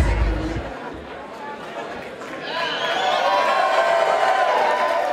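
Crowd noise at a chess boxing event, a dense murmur of chatter and hubbub that swells louder partway through with some cheering mixed in, steady and fairly close throughout.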